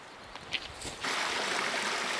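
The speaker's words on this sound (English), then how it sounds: "we're here in this creek that I was showing you that's kind of running down the center of that drainage" A creek trickles down the center of a meadow drainage high in the Colorado elk country, a steady close water rush that swells after a second, with a few faint knocks before it.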